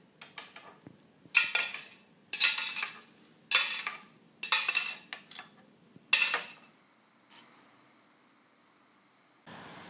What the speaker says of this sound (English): use your left hand to pick up these beans one at a time with the teaspoon and place them in the can as fast as you can